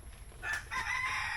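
A rooster crows once, a strained, drawn-out call rising and holding, moderately near, with no talking.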